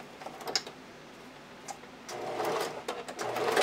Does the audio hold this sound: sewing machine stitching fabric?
yes